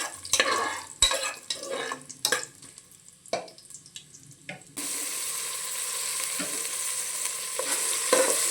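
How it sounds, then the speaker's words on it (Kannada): Cloves, marathi moggu, bay leaf and kasuri methi fry in oil while being stirred in a pan. Scraping and stirring knocks come first, then a steady, gentle sizzle takes over. "ಲವಂಗ, ಮರಾಠಿ ಮೊಗ್ಗು, ಬಾತೆಲೆ, ಸ್ವಲ್ಪ ಕಸ್ತೂರಿ ಮೇಥಿ ಇದೆಲ್ಲನೂ ಎಣ್ಣೆಯಲ್ಲಿ ಫ್ರೈ ಮಾಡ್ಕೊತಾ ಇದ್ದೀನಿ"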